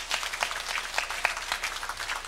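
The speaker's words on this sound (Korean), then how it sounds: "하나님께 영광의 박수를 드립니다." A church congregation claps during a Sunday worship service, a steady patter of many hands heard at a modest level for a couple of seconds.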